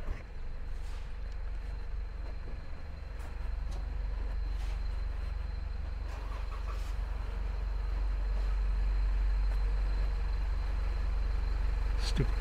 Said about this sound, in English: Stupid truck.